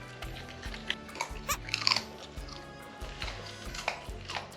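A Shiba Inu dog crunches on carrot up close, with a run of irregular, wet bites and chewing crunches, some sharper snaps standing out, over low background noise.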